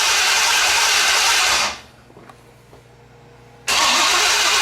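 A 1970 GTO engine fires up: loud, close running noise cuts out into near silence with faint clicks and a low hum, then the engine roars back to life abruptly.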